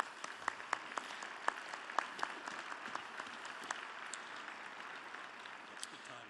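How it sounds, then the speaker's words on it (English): Applause from the audience at a presidential debate, a sustained field of clapping with a few sharp, nearby claps standing out early, gradually settling into a softer even patter. "let's give them a round of applause."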